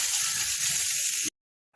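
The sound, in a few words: greens (shak) frying in oil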